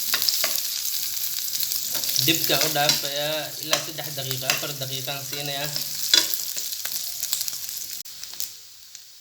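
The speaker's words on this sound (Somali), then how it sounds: "asxaabta hilibkii xoogaa waan soo yara shiilay" Meat frying in a pan, a steady soft sizzle with occasional stirring clatter, while a person talks over it for much of the time.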